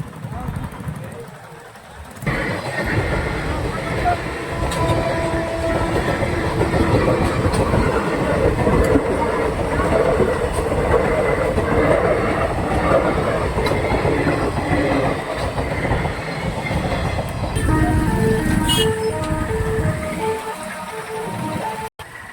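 A train rumbles past close by at a level crossing for about twenty seconds, a steady loud roar with rhythmic wheel clatter, fading near the end.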